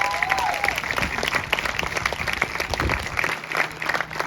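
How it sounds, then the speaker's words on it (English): Applause from a school ceremony crowd for National Honor Society high school students, a steady burst of clapping held at an even level for several seconds with a brief whistle near the start. "Let's give them a round of applause."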